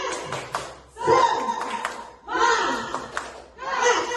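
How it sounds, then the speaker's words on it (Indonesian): A group joins in a rhythmic spirit clap during a positive-culture session at an elementary school, with bursts of patterned claps in several rounds broken by short pauses and voices calling out between them. "Sekali lagi, tepuk semangat."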